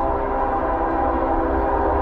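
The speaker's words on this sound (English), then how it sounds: "Give me a horn show. Come on, lay on it. Got a CSX." A CSX freight train horn blares continuously and loud, a steady sustained chord with the rumble of the passing train beneath it, no pauses across the span.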